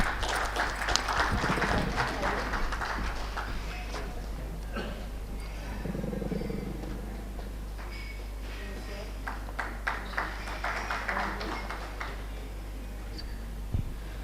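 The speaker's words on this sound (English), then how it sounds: "Can we please have a big round of applause, everyone?" An audience applauds at the RailTrans Expo 2024 urban infrastructure summit, with sustained clapping that fills the hall and sharper individual claps popping out. A voice speaks faintly underneath.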